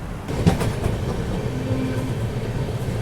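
Inside the Mumbai–Howrah AC Duronto Express running along the track, a steady rumble carries faint rhythmic clatter from the wheels, with no voices.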